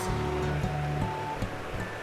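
A waterfall at the abandoned Paradise Springs ruins pours steadily, a dense, continuous rushing hiss of falling water, fairly close and unbroken.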